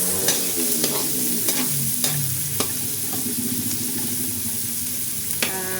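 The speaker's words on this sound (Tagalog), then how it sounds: "Bali magigisa na lang po tayo ng bawang at sibuyas." Garlic and onion sautéing in a pan for beef kaldereta, a steady close sizzle with a string of sharp utensil clinks and scrapes from stirring; no voices.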